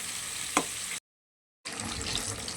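A sweet filling cooked with palm jaggery syrup is stirred in a pan, giving a soft, steady sizzle and bubbling with a faint scrape. A brief silent gap breaks the sound before it resumes.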